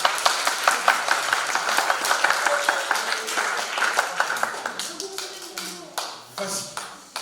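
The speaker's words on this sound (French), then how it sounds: "on peut les applaudir pour les enfants" An audience claps for children at a spring artistic workshop show, the sharp, dense claps strong at first and thinning to scattered claps near the end while speech murmurs underneath.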